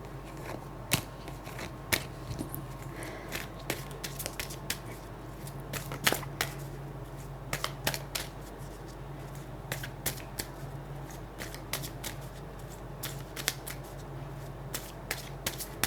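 Tarot cards being shuffled, a steady run of crisp riffling snaps and flicks at close range, with no voice over it.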